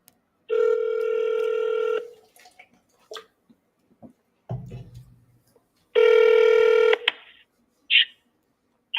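An outgoing telephone call rings twice, each a loud, steady two-second electronic ring tone separated by a long pause filled with faint clicks and brief low rustling, and no one speaks.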